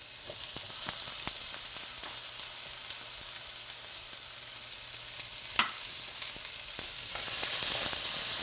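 Green and red peppers sizzle steadily in a pan as a vegetable hash cooks, a continuous close frying hiss with occasional sharper pops and crackles and a brief stir partway through.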